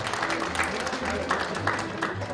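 Applause at an inauguration ceremony of a Korean horse industry association, moderate steady clapping under a talking voice, with distinct claps popping out now and then.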